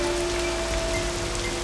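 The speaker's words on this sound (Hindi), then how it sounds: "बारिश हो रही है, अंदर आओ तुम" Steady rain pours down outdoors, a dense continuous hiss with no break, heard alone without voices.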